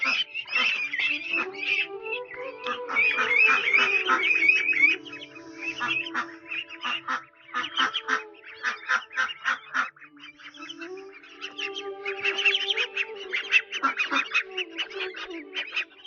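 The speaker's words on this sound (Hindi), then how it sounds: "ये देखें बतखों के बच्चे भागे फिर रहे हैं।" Ducklings on a fish farm in Pakistan quack loudly and continuously at close range, with overlapping honking calls and brief pauses between bursts.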